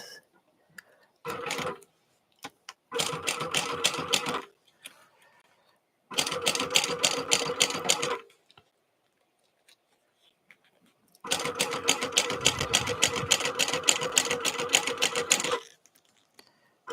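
A sewing machine stitching a fabric bottle sling, running in several rapid, loud mechanical bursts of a few seconds each, separated by quiet pauses with faint handling sounds.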